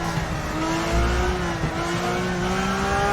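A car approaching the banked carousel corner at the Nürburgring, its engine droning loud and steady from inside the cabin with a sustained tonal whine that holds nearly level throughout.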